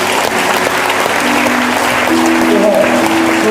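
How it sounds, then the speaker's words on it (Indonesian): Applause from a church congregation, dense and loud, filling the room evenly from start to finish with a few voices and sustained tones mixed in. "kasih tepuk tangan dulu"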